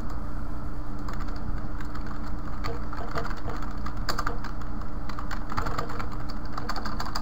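Computer keyboard typing button instance names in Flash CS4, a cluster of rapid, close key clicks in bursts over a loud constant hum, with no talking.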